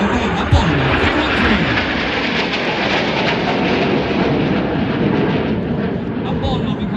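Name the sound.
Frecce Tricolori aerobatic jets flying at an air show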